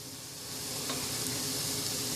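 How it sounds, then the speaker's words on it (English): Zucchini squash soup cooks over high heat, producing a steady, dense sizzling hiss that swells slightly and then holds constant and fairly close, with no talking. "And it's cooking. And it's on high fire."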